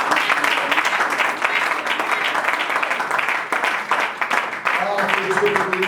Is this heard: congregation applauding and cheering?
yes